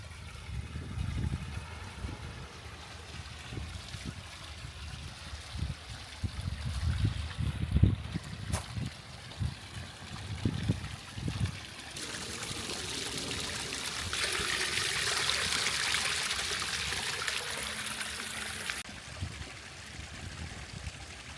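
Water trickles steadily from a garden pond waterfall stocked with goldfish, a continuous splashing flow that swells into a louder rushing stretch midway before easing back; no voices.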